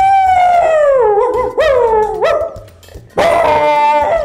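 A person imitates a large dog barking: a few long, drawn-out howling barks, loud and close, with sliding pitch.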